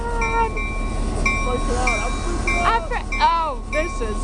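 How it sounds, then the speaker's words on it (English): A passenger train runs on rails on a trip near Hood River, giving a steady low rumble with squealing wheel tones sliding up and down, heard close from inside the train. "Okay, I'm on a train."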